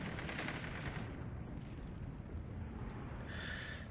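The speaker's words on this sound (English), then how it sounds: "60 mil mortar doing what it does." 60 mm mortars fire in the Steel Division 2 wargame, soft muffled thumps and distant booms rumbling under a faint battlefield din, low in level throughout.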